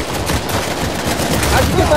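Rapid gunfire in Uncharted 4 multiplayer, dense bursts of close, loud shots crackling over a short stretch of gameplay.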